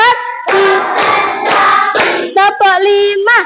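A classroom of children claps together in a counted ice-breaking clap game, with bursts of group clapping mixed with chanting voices that fall into a steady call-and-response rhythm.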